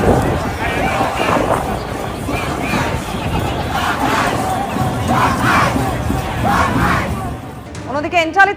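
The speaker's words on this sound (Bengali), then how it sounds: "ট্রাম্পের বিরুদ্ধে আমেরিকার বিভিন্ন প্রান্তে বিক্ষোভ দেখাচ্ছেন সাধারণ মানুষ।" A large crowd of protesters chants and shouts at an anti-Trump demonstration in America, loud and continuous with rhythmic swells and some wind buffeting.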